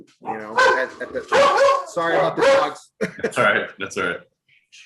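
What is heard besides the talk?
dogs barking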